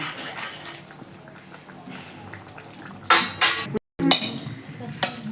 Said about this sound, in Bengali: তরকারিটা আমি একটা বাটিতে নামিয়ে নিলাম